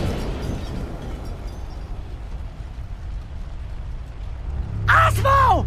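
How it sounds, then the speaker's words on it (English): A planted bomb detonating and destroying a shop in the video game Daxter, a deep rumbling blast that fades to a low roar, then a brief vocal shout or groan near the end. "Daxter charges out after Caden, only for him to detonate a bomb he had planted,"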